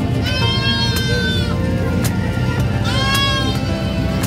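Goats bleat repeatedly at a livestock market in San Carlos City, several wavering calls rising over a steady crowd murmur with people talking nearby.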